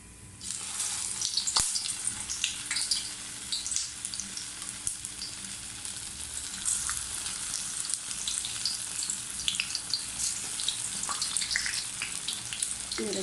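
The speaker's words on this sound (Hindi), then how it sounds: "तवे पे मैंने सारे ऐसे गोल बना लिया और इनको पलटना नहीं है और ऑयल भी गर्म हो गया। अब मैं एक एक करके भला उसमें ट्रांसफ़र कर दूँगी।" Dahi bhalla batter fries in hot oil on a tawa, giving a steady crackling sizzle across the whole stretch with a faint sharp knock near the start.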